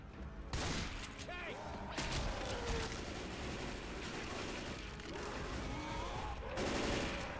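Dense, continuous gunfire and explosions from a multiplayer shooter game, with a tank and Molotov in play, running loud throughout with overlapping bursts and mechanical clatter.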